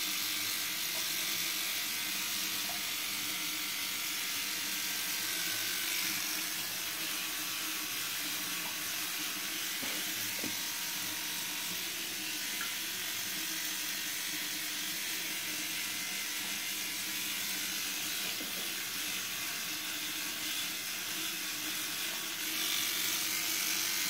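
A child brushes their teeth with a toothbrush, most likely an electric one, making a steady close buzzing and scrubbing hum that runs continuously without pause.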